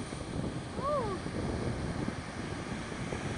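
Gusty sea wind buffets the shoreline in a constant rough rush beside high waves, with a brief whistling tone rising and falling early on.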